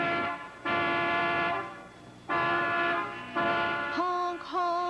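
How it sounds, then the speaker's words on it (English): Several long, loud car horn blasts from speeding cars on a highway sound one after another with short gaps, the last two shorter and rising in pitch. "Honk, honk went the horns on the speeding cars."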